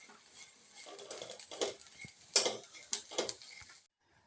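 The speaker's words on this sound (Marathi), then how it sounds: "मटकी चांगली भाजत आहे" Moth beans (matki) dry-roast in a pan, giving faint, irregular ticks and light patter as the beans are stirred, quiet and close with no talking.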